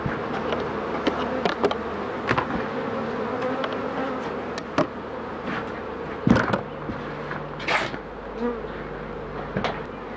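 Honeybees fan their wings at the hive, a dense, continuous droning buzz heard close up, broken by occasional sharp clicks and taps.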